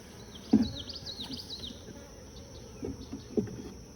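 Overcrowded honey bees bearding on the outside of a hive give a constant low buzzing drone, with individual bees whining past close by and a few soft knocks over the hum.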